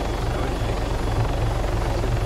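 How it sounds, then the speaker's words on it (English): A helicopter in Arma 3 drones with a steady, close rotor thump and engine rumble from inside the cabin, continuous and loud with no voices. "We're still in the chopper."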